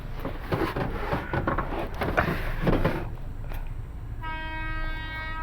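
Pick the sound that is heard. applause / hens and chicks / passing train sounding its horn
passing train sounding its horn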